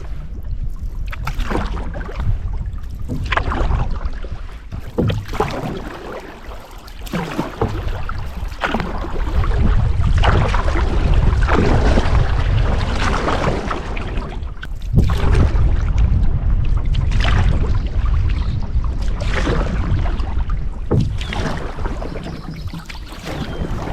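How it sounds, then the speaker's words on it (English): Canoe paddling south on West Corbo lake in Algonquin Park, with steady water swishing and splashing from paddle strokes, wind rushing across the microphone, and a continuous close, fairly loud wash of sound with no talking. "So this is paddling south on West Corbo, still in the northern part of it"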